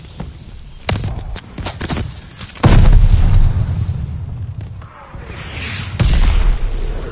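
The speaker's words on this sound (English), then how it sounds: "Watch your head! Shell's falling!" An artillery shell drops and detonates in the Call of Duty Vanguard battlefield, a heavy booming blast with rumbling low-end aftermath, followed later by another loud impact amid ongoing combat noise.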